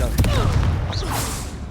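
A Confringo spell explosion from Hogwarts Legacy, a quick booming burst with crackling fire-like fallout over busy combat noise, close and fairly loud.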